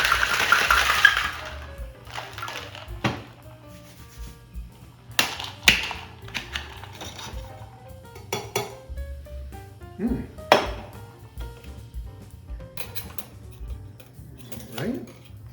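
Ice rattles and clinks sharply inside a shaker for a Tom Collins cocktail, a busy run of hard metallic knocks and chinks with some louder strikes, while talk is heard in the background.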